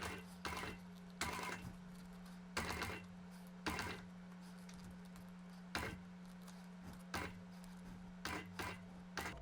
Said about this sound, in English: The first stitch is a back stitch to lock it in tight.